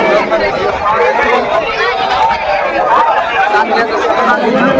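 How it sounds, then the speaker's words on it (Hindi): A crowd chatters steadily at a Ganga river bathing ghat in Sultanganj, with many overlapping voices forming a dense, continuous hubbub from nearby. "ज़्यादा तो भीड़ नहीं है, बट हाँ भीड़ है"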